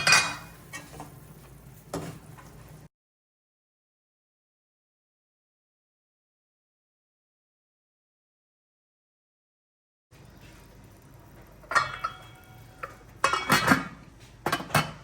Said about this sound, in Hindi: साथ साथ इसको चमचा हिलाते रहना है